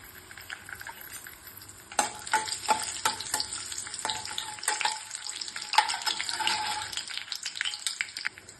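Cashews and raisins frying in a pan for mango kesaribath crackle in a close, steady sizzle, with stirring scrapes and sharper pops joining in partway through.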